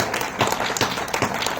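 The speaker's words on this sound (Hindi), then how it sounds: "तालियां बजाइए इनके लिए।" Applause from an audience at a poetry gathering in a temple, brisk continuous clapping heard up close for a short moment.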